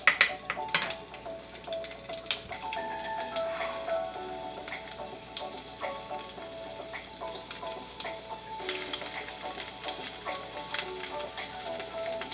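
Italian sausage sizzles steadily in an overly hot pan, a dense crackling hiss with scattered pops and occasional utensil clinks, close and continuous with no talking.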